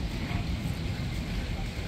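Strong wind roars steadily into the microphone, a dense low rumble with buffeting gusts and no other clear sounds.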